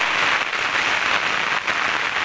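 Continuous downpour of monsoon rain on waterlogged Sultanpur village, Mangrol taluka, Junagadh, a thick steady roar of drops that barely wavers, with one slight dip midway and no talking.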